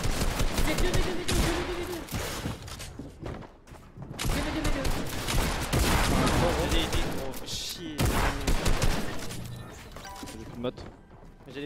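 Shotgun blasts from a pump-action weapon during a Fortnite Champion Series qualification match, several sharp reports among dense gunfire and in-game crashes, loud and close, with players talking over the action.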